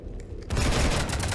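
Sudden burst of automatic gunfire raking a starship in Mass Effect 3, a loud, dense, sustained volley that erupts after a brief quieter lead-in and keeps rattling to the end.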